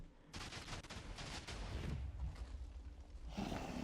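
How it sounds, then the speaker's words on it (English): Many blocks of TNT detonate at once in Minecraft, a dense continuous roar of overlapping booms and crackling blasts running almost four seconds, loud and close with no gaps. "all this TNT exactly simultaneously exploding everywhere"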